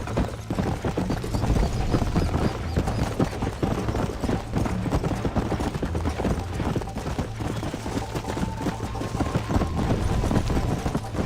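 Horse galloping in the video game Red Dead Redemption: a steady, fast clip-clop of hooves runs throughout, fairly loud, over continuous game ambience with a low hum.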